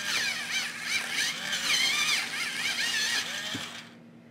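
An electric automatic pencil sharpener grinds a pencil with a steady, close whirring buzz lasting about four seconds, its motor tone wavering slightly under pressure before winding down and stopping.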